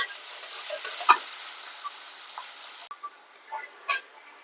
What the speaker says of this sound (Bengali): পেস্টটি ভাজা হোক,